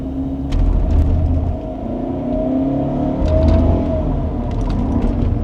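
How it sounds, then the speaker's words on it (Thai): A tuned Toyota Camry with a gasoline engine is floored from a standstill. Its engine roars steadily and the pitch climbs as the car pulls away, with a constant low rumble throughout. "นี่ลองกระแทกคันเร่งออกตัวไปเลย"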